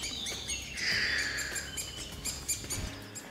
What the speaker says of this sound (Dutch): Een stiltegebied. Nou ja, met af en toe wat vogeltjes dan.